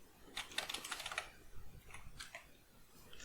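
Fast typing on a computer keyboard, with a quick burst of clicky keystrokes followed by scattered slower taps, close and quiet over faint room hiss, no talking.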